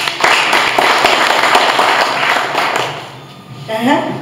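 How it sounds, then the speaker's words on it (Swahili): Audience at a Swahili church service clapping, a burst of fast, dense applause for about three seconds that fades out, followed by a voice speaking. "Jipigie makofi."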